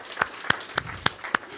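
Audience clapping after a song at a Sunday service, faint and brief, just five separate, evenly spaced claps, each one distinct.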